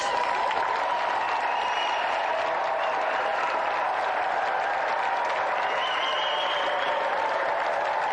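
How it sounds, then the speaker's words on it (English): A TV game show studio audience applauds steadily, a dense wash of clapping that stays even and loud throughout. "let's give him another round of applause anyway"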